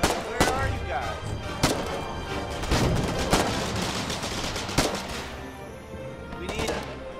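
Gunfire in the Foxhole war game, scattered sharp rifle shots and thuds, some near and some distant, cracking irregularly through a continuous battle din.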